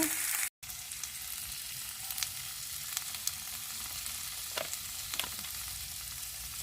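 A salmon steak fries in a pan with a steady, close hiss and crackle of hot fat, broken by a few sharper pops, after a short cut to silence near the start.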